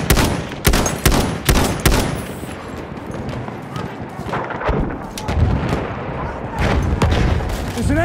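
An enemy machine gun rattles in Battlefield 1 on the Amiens map, with loud rapid bursts of gunfire and booming shots in a busy battle, with voices heard under the din.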